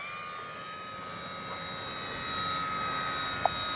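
A Dynam BF-109 RC warbird model plane flies overhead, its steady engine whine holding a sustained drone with high tonal lines, fairly distant and even, with a brief sharp click near the end.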